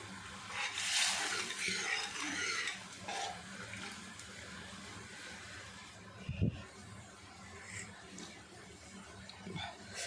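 Water boils in a pot for egg biryani, bubbling and churning with a continuous hiss and gurgle and an occasional clunk.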